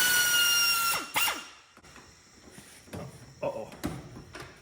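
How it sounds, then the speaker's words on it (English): A power drill whirs loudly for about a second while drilling holes on a Peterbilt 359 truck under restoration, then several shorter bursts of drilling and mechanical clatter follow, close by. "Now I still need to drill the ones at the top."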